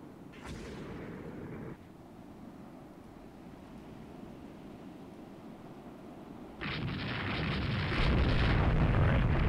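Naval gunfire in the warship strategy game Rule the Waves 2, as a battleship engagement plays out: booming shots and rumbling blasts over a steady low roar, swelling into a loud, sustained barrage toward the end, with no talking.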